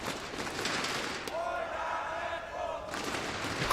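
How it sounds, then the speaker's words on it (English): A live crowd roars and cheers at a CS:GO esports semifinal between HellRaisers and mousesports, a dense, sustained swell of voices throughout with a commentator talking over it. "The crowd absolutely behind HellRaisers at the moment."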